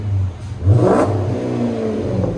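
A Chrysler 300 with a 5.7L Hemi V8 and a Magnaflow Magnapack exhaust, rear delete and 4-inch tips, revs up from a deep, close idle rumble, swells sharply for about a second, then settles back into a steady drone.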